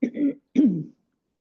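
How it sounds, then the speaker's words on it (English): Someone clears their throat twice in a calm yoga and meditation session, two short, close, husky rasps separated by a brief pause, with no talking. "clear your throat"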